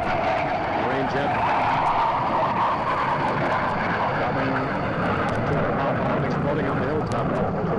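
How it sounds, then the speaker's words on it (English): A Marine jet aircraft roars overhead in a Vietnam War field recording, a loud continuous engine drone filling the whole span, with a voice speaking briefly over it. "Marine jet."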